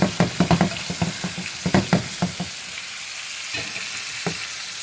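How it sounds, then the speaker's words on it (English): Pot roast searing in a hot pan, with the sizzle and frying hiss broken up by a run of clattery stirring or utensil knocks early on, then settling into a quieter, steady sizzle. "Roast is going. Just searing that."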